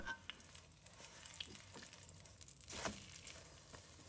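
A chive, egg and flour pancake fries in a pan just after being flipped, giving a soft, steady sizzle with a few crackling bursts and a louder spatter near the end, quiet overall.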